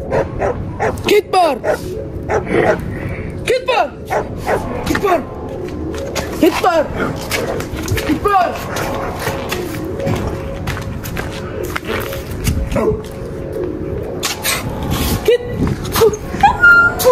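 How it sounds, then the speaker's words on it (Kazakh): Dogs barking and yipping close by in quick, uneven bursts with some whimpers, while people talk over them. "Иттер ұйықтатпады уже."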